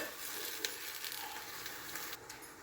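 Kangkong leaves with garlic stir-frying in a covered pan, giving a steady soft sizzle and light crackle with a few sharper pops, fairly quiet and close, with no talking.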